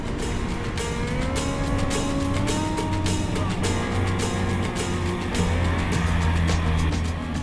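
A 4WD on big 35-inch tyres climbs a sand track, its engine droning and straining at close range with shifting tone, while sharp crackles and bursts of wind or sand spray punctuate the steady run.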